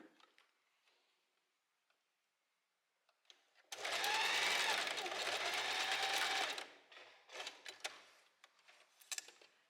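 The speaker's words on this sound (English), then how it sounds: "And then I'm gonna sew across here." Sewing machine stitching across the strap of a Ganni-inspired blouse, one steady run of about three seconds, fairly loud, followed by brief handling clicks and light rustling.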